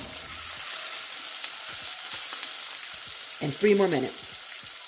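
Salmon fillet frying in a pan gives a steady close sizzle throughout, with a short burst of speech near the end over the constant crackle.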